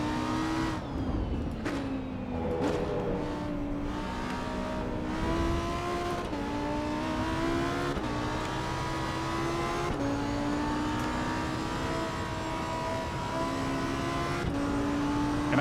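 Race car engine in the Assetto Corsa EVO racing game, driven with no traction control on soft-compound tyres, revving loud and close through repeated upshifts and rising pitch sweeps, with occasional tyre squeal and no talk.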